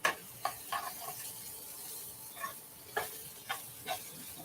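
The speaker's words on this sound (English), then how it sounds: "Stir that around" A half bunch of leafy green tops stirred in a hot pan for a plant-based holiday dish: a faint, steady sizzle hiss broken by soft scraping clicks of the spoon, with no voices.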